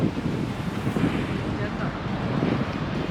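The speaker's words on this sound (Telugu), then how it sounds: "గాలి చాలా వస్తుంది కదా." Strong, cold wind blows by open water at a viewpoint near Banff in Alberta, Canada, a loud continuous gusty roar that buffets the microphone, mixed with a wash of waves and no clear speech.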